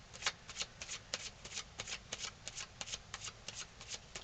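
Rapid riffling of a deck of reading cards being shuffled, a steady run of crisp papery bursts at close range with no talking over it.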